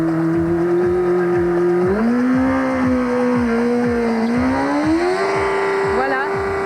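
A Yamaha FZR 1000 motorcycle doing a burnout holds a loud, steady high rev with a slight rise partway, a rapid pulsing throb underneath, close and continuous.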